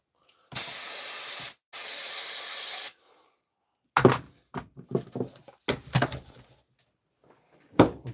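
Two long, loud bursts of compressed air blasting onto brake parts, followed by a scatter of clunks and knocks as parts are handled up close.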